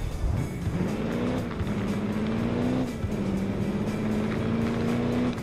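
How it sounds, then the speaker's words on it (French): A 4x4 driving on gravel in the Xbox 360 game Crash Time, with a steady engine hum that rises slightly in pitch over a constant gritty crunch of tires on gravel. "Et petit bruit de gravier quand on roule"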